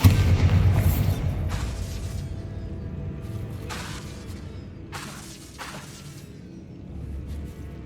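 A Bombarda blasting spell goes off in Hogwarts Legacy with a loud opening burst and boom, followed by a few lighter whooshing and crackling bursts that fade into a low rumble.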